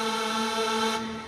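A Yamaha PSR-SX900 keyboard holds a sustained chord on a natural voice, a steady rich tone that fades slightly near the end, close and alone.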